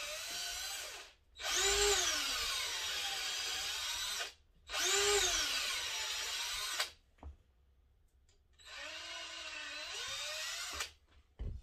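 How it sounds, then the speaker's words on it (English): A number 30 bit drills a pilot hole for tapping in an HB Racing D418 part, three loud whining bursts of a power drill separated by short pauses, with a faint lower hum between. "Yeah, number 30 drill bit to drill it before we tap it."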